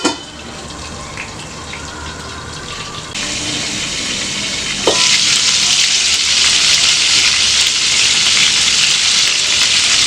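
Chicken breast fries in a lidded pan over medium flame, giving a steady sizzle that swells louder and brighter after about five seconds and holds as a dense, continuous crackle with no talking.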